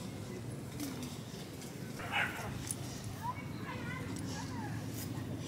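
A husky barks in a busy outdoor setting, a few short yips rising over steady background noise while people talk nearby.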